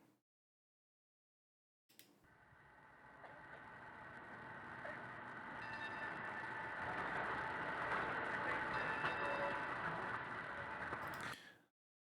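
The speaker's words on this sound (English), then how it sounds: "It was a tram." A tram rumbles in the background of a recorded phone call from the video game Spycraft, a muffled steady hum and drone that swells slightly, beginning and ending abruptly after a stretch of silence.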